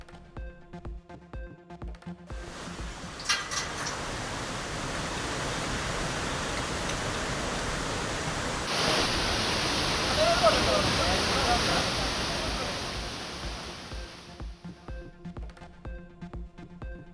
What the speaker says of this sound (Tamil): கோவை மாவட்டம் பொள்ளாச்சி அடுத்துள்ள கவி அருவியில் தொடர்ந்து 3வது நாளாக வெள்ளப்பெருக்கு.